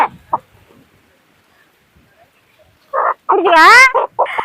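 A native village chicken lets out a loud squawking cluck in a short burst of calls after a few quiet seconds, close by.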